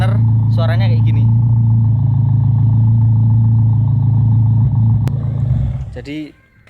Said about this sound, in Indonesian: Nih kalau stasioner suaranya kayak gini.